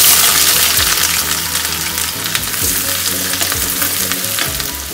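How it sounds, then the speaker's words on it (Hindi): Onions dropped into hot oil in a kadhai for pav bhaji, a loud, close, rushing hiss and crackle that stays strong throughout with low clattering stirs underneath, no voices. "अब हमारा ऑयल गर्म हो चुका है अब हम इसमें डालेंगे हमारी प्याज"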